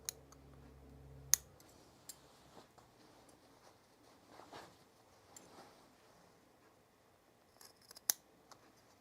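Scissors snipping through several layers of shirt fabric on a box surface, giving a few sharp isolated clicks and cuts with quiet rustling handling in between.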